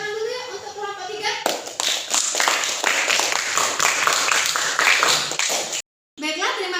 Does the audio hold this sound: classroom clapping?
yes